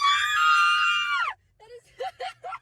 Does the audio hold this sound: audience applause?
no